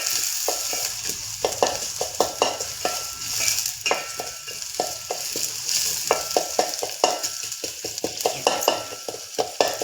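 Haland root vegetable fries in a pan with a continuous sizzle, broken by frequent rhythmic spoon strokes scraping the pan up close, steady and lively throughout with no speech.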